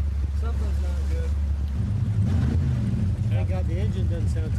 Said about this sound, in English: Thank God the engine doesn't sound too bad.